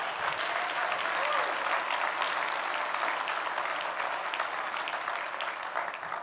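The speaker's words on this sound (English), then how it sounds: "Why don't y'all give these people a round of applause?" A crowd claps loudly and continuously, the dense applause holding steady for several seconds before easing slightly at the end.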